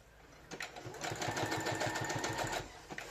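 Sewing machine stitching elastic inside the seam allowance of a cloth diaper, a rapid mechanical whir lasting about two seconds with quieter starts and stops at each end.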